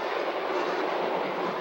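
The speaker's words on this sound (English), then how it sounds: "many residents have complained of its deafening roar and seismic vibrations." A Shinkansen bullet train in Japan roars past nearby homes, a loud, steady broadband rushing rumble that holds without a break for the whole moment, with no voices.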